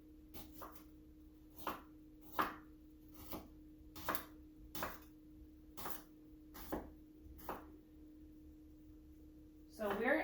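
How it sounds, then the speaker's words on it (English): A knife rough-chopping fresh ginger on a board, about ten evenly spaced crisp strokes in a steady rhythm, close and fairly quiet, with a low steady hum behind. "I'm just gonna give it a rough chop."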